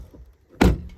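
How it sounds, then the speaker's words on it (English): A BMW E90 325i bonnet is popped open, a single short sharp clunk close by after near silence. "So pop the bonnet."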